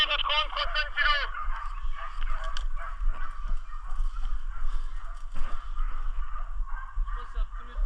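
Hunting dogs bay during a wild boar drive in a quarry area, with a sharp burst of yelping barks at the start, then fainter, more distant barking and calls over steady outdoor noise.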